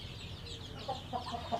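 Burmese fighting rooster from the Nam Khun area clucking in a few short, close calls near the end, over steady low rural background noise.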